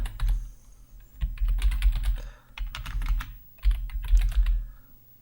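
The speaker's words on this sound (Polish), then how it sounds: "No to wpisujemy first name" Bursts of rapid typing on a computer keyboard while entering a database query, with quick clicking keystrokes in three clusters separated by short pauses, close and fairly clear with no talk.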